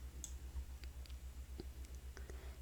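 A computer mouse clicking during video editing, a few small sharp clicks scattered over a low steady hum, very quiet and close.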